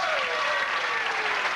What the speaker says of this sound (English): Brings applause from the crowd